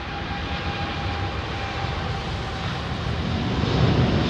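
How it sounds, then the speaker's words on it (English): A Boeing 787 Dreamliner takes off from Heathrow's runway 27R, a steady broad jet roar, fairly quiet and distant, that swells gradually louder toward the end. "we'll get this Dreamliner going out"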